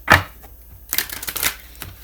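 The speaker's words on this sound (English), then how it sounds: "being new decks, I just wanted to shuffle on camera so that you know" A new deck of tarot cards is shuffled in a few quick bursts of papery riffling and clicking, close and fairly crisp, with brief pauses between the bursts.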